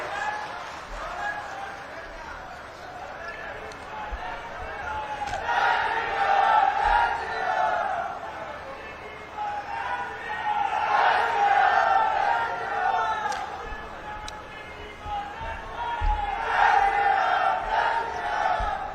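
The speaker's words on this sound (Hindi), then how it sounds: "एक बार माननीय मुख्यमंत्री महोदय के स्वागत में जोरदार नारे लगाएंगे।" Crowd at a political rally welcoming the chief minister, chanting slogans in loud swelling waves that rise and fall repeatedly, with an amplified voice leading over the massed shouting.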